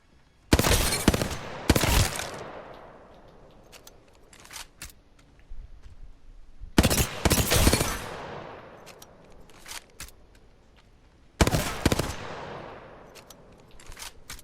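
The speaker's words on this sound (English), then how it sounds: "the last gun here that we'll look at is the Hemlock" Hemlock burst rifle fires in Apex Legends, four separate bursts of rapid sharp shots spaced several seconds apart, each followed by a ringing decaying tail, with no talking.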